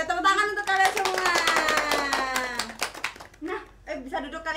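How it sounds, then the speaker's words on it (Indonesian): A classroom of students claps together, a quick run of sharp hand claps mixed with children's voices and chatter that continues as the clapping fades. "tepuk tangan untuk kalian semua"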